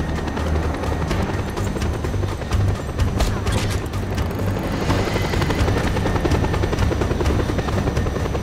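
Helicopter in the video game Just Cause 2, its rotor and engine roaring loud and steady throughout, with faint gunfire-like bursts mixed into the dense drone.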